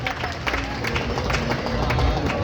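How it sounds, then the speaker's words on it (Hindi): An audience at a comedy show in Sonpur applauds loudly, a dense, continuous wash of clapping and crowd noise with no gaps throughout. "एक बार जोरदार ताली बजाई बाबू"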